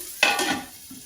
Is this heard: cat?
no